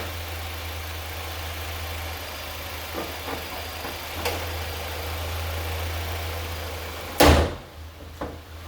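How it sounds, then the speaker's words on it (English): A Nissan Altima idles steadily after an oil change, a low engine hum with a few clicks and taps, then a loud door thunk near the end as the engine note drops away. "I'm gonna bring our car off the ramp."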